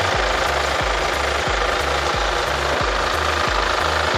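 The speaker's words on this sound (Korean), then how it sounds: "엔진 소리 일정하고 좋습니다" A Kia Sportage fourth-generation 2.0 diesel idles in its engine bay, a close, steady knocking clatter with regular rhythmic pulses and no talk.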